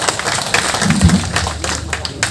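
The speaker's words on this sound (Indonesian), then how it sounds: "tepuk tangan dong buat Lampung Tengah ya" An audience at an Indonesian bonsai gathering claps for Lampung Tengah, a loud, close, continuous patter of applause with a brief murmur of voices.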